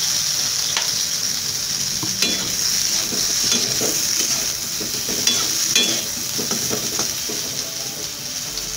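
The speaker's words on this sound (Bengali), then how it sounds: "এখন আমি পটলটাকে কষে নিচ্ছি" Pointed gourd (potol) sautéed in oil in a pan gives a continuous close hiss and sizzle, broken by scattered scraping and knocking of the spatula.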